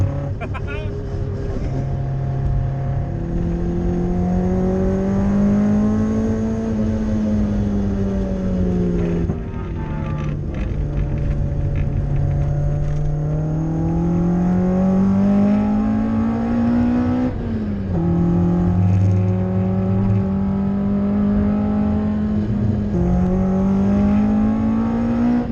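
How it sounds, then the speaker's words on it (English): A Toyota AE86's naturally aspirated 4A-G engine on individual throttle bodies revs and pulls through the gears from inside the car, rising and falling in steady sweeps, loud and close, with a person talking over it. "always love the throttle response that you get from an NA4AG on throttles"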